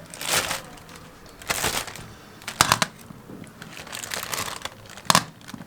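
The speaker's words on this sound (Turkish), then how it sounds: "Şimdi poşetimize dolduralım bu şekilde." A plastic freezer bag crinkles in several loud, separate bursts of rustling as fruit is packed into it for freezing, with quieter handling noise between them and no talking.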